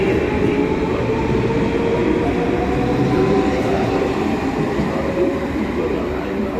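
Train at Heidelberg main station, a steady dense rumble of rolling railcars with faint wheel clatter, continuous and fairly loud throughout, with no one speaking nearby.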